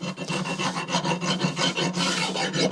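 A rasp files varnish off a cheap wooden axe handle, producing loud, continuous scraping strokes in a steady back-and-forth rhythm with no voices.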